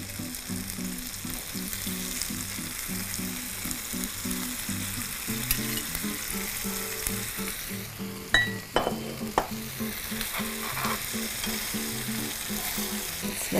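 Pasta tossed into a hot pan with tomatoes, frying with a steady loud sizzle throughout and a few sharp clinks and scrapes of stirring partway through; no voices.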